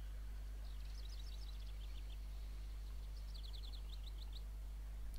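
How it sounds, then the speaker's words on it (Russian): Small birds chirp in short bursts of quick high tweets over a steady low ambient hum in the video game Syberia, with no talking. "Здесь столько птиц, просто поразительно."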